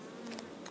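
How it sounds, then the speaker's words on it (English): Honey bees buzzing inside a honey-bound beehive, a soft steady hum of many insects heard close, with no talking. "there's lots of bees in here"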